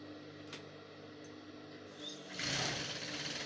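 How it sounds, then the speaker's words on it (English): A sewing machine stitches a shirt collar with a low, steady whir that is fairly quiet, then speeds up and grows louder for the last second or so. "I'm going to start stitching from the midpoint."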